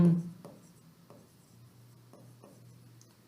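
Pen or pencil writing by hand on paper while solving a geometry problem, with soft repeated strokes and light taps at a steady pace, quiet and close, after a brief low voice at the start.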